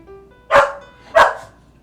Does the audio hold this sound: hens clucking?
no